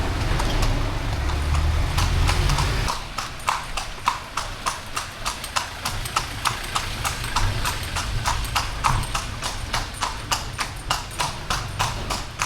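Horse hooves clip-clop steadily on a main street in Lampang, Thailand, in a brisk even rhythm, close by, over a low rumble of traffic and engine noise.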